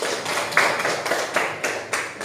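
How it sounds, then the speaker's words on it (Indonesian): Classroom students at a school applauding themselves, a short burst of scattered, uneven claps and taps that rise and fade in brief clusters rather than a full sustained ovation. "Silakan tepuk tangan untuk diri kita sendiri."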